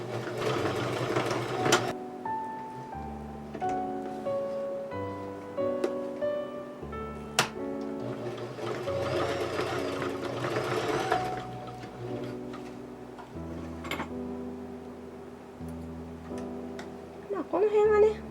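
A sewing machine runs in short bursts of rhythmic stitching while sewing tulle onto a ballet tutu skirt, with sharp clicks between runs and someone talking over it.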